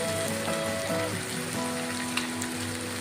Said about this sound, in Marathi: आता मी गरम मसाला टाकत आहे